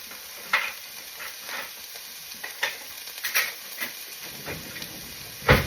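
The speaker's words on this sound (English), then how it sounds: "Hear that sizzle? That's a good thing." Eggs and vegetables sizzle in a preheated pan for a breakfast scramble: a soft, steady hiss broken by scattered crackles and brief stirring sounds, fairly quiet and close.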